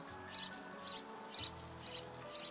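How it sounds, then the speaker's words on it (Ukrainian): Five short, bright chirps from a sparrow come at an even pace, fairly quiet and close, with nothing else audible. "горобчик. Правильно."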